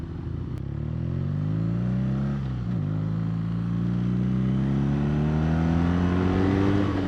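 A 2016 BMW R nineT with a 1200cc engine accelerating close by, its deep throbbing note climbing in pitch, dipping briefly at a gear shift, then rising smoothly and loudly again.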